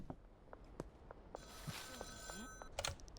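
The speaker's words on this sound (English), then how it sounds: "Talk to Uncle on the payphone again." A payphone rings in the Schedule 1 video game, giving a few repeated electronic ring bursts over a low background bed with scattered game clicks.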